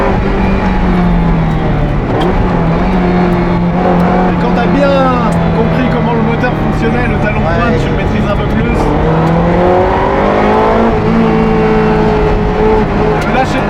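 A Ferrari F355 Challenge race car driven on an open road, its loud engine droning and rising and falling in pitch as it revs and shifts, close and constant, while people talk over it inside the car.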